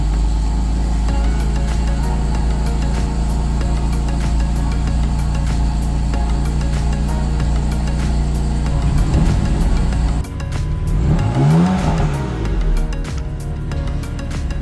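A BMW M4 engine with a newly installed JB4 tuner rumbles steadily at idle up close, sounding louder, then briefly revs up and settles again near the end.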